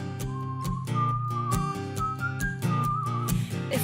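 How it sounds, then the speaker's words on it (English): Whistling over a bouncy musical backing in a children's space-themed show, a bright wavering melody line carried through steady rhythmic music with no talk. "Can you whistle in space?"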